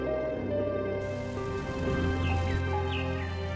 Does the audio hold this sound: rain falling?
yes